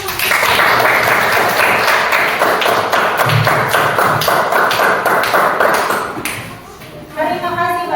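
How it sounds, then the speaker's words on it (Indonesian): A classroom group applauds as the third presentation group returns to their seats, dense clapping and tapping filling the room for several seconds, with voices mixed in before it thins out near the end. "beri tepuk tangan"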